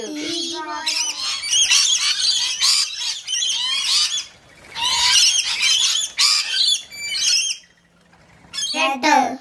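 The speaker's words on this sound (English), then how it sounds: "P for parrot." A parrot gives a series of harsh, close, loud squawks and calls in bursts, separated by short pauses.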